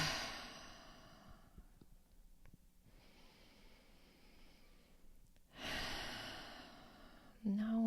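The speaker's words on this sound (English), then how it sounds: "And exhale, just let it flow out" Slow, deep breaths during a guided breathwork session, with a long airy breath that fades, a pause, then a strong, close exhale rushing out before a voice begins to speak.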